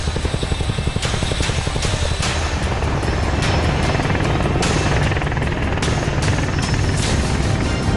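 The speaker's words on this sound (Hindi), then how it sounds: "दिन और रात 24 घंटे वायुसेना के जो लड़ाकू विमान हैं, हेलीकॉप्टर हैं, वो दुश्मन की हर हरकत पर नजर रख रहे हैं" Military helicopter flying at a forward air base, its rotor throbbing loudly and steadily throughout with rapid chopping pulses over a deep engine drone, no voices.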